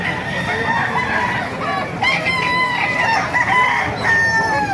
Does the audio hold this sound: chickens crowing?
yes